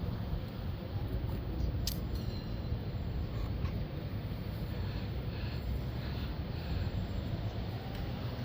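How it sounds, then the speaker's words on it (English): Strong wind gusts roar in a steady, dense rush close to the microphone on a stormy day in Benidorm, buffeting continuously with faint flapping of flags and no voices. "As you can see, the flags are blowing quite a bit in the wind already."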